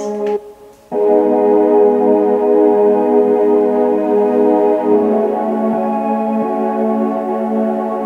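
Sustained synth lead built in Serum from a converted guitar sample, with no arpeggiator, holding a bright harmonic-rich tone that swells in after a brief soft intro and shifts pitch subtly midway, loud and steady.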